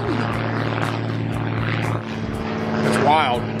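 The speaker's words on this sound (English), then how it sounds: "We're flying an airplane right now." A propeller airplane flying slowly and low overhead, a steady droning buzz that swells into a rising, wavering whine near the end.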